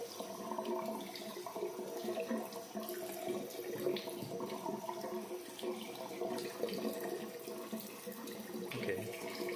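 Tap water runs steadily over a waterproof rugged phone, a continuous splashing hiss at moderate level with no break.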